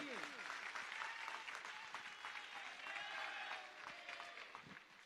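Audience applause at a Jain monks' ceremony honoring disciples, sustained dense clapping with some crowd murmur mixed in, fading slightly toward the end.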